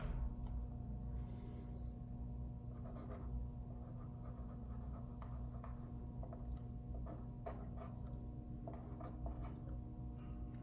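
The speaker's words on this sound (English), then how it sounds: "So we can just write ribbon for 20 gift boxes in that little number two." Pencil or pen scratching on a paper worksheet in short bursts of strokes, close and quiet over a low steady room hum.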